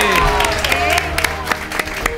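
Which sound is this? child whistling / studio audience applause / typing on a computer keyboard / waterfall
studio audience applause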